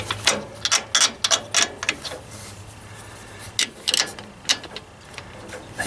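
Bolts being snugged up on a 1944 Ford 2N tractor, close-up bursts of rapid ratcheting clicks in short clusters with brief pauses between them, no talk.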